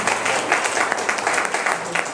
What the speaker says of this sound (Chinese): 来，给大家一个热烈的掌声